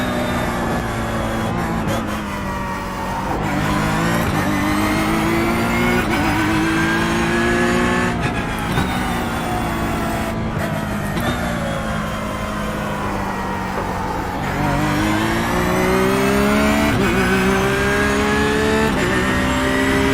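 Porsche 911 GT3R race car in the iRacing simulator at the Bathurst circuit, its engine loud and close, revving up through the gears and dropping back under braking in repeated continuous sweeps.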